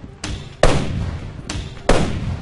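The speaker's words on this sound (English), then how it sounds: "they explode when they hit the target here" Impact grenades from the video game Titan: Dawn burst on hitting their target, giving four sharp explosive thuds in two pairs, each a loud broadband crack with a short rumbling decay, with no talk.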